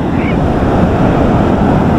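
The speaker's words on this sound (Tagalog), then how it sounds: "abangan mo yung alon" Loud ocean waves surge and wash continuously onto a beach at Dingalan, Aurora, a dense, close roar with some wind buffeting the microphone.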